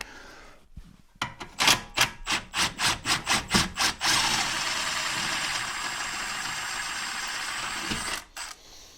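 Metal tool strikes hard on a BMW E36 rear upper outer control arm bolt, about ten loud rhythmic blows in quick succession, then a sustained scraping rasp as the bolt is worked out, ending in a brief knock.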